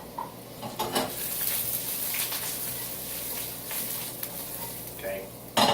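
Small potatoes with parsley sizzle and crackle in a hot pan, the frying steady underneath several sharp scraping and stirring clatters of a utensil against the pan.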